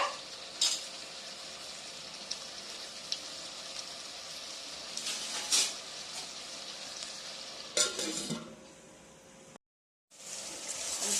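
Paneer butter masala bubbles and sizzles in a pan over a high flame, a low continuous frying hiss. A few sharp utensil scrapes and knocks break through now and then, followed by a brief silence near the end.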